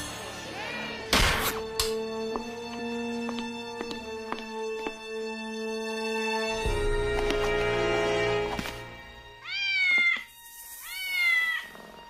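A cat named Cagney in an animated Gargoyles episode meows in two drawn-out rising calls near the end, after sustained tones and music-like background.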